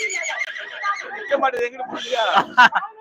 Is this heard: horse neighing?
yes